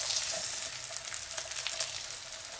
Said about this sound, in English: I just need to do a quick flip of these eggs to cook that gooey stuff